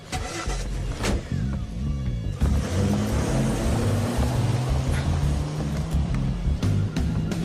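A car engine turns over and catches, then settles into a steady running drone as the vehicle pulls away, close and fairly loud with a few clunks over it and no talk.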